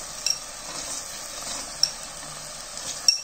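Sprouted chickpeas and horse gram sautéing with tomato in a pan give a steady soft sizzle, with a few sharp clinks of a spoon stirring and scraping near the start, middle and end.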